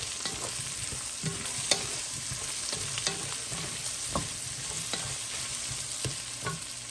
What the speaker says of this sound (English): I'm going to toss in the potatoes. Give them a little bit of a stir in this grease right fast.